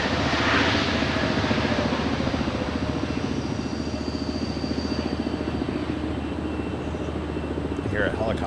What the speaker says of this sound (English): Hear a helicopter. I hear it too.